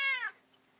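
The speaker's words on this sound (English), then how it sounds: "Ah, yes, my cat." A house cat lets out a single short, clear meow, close and fairly quiet, then silence.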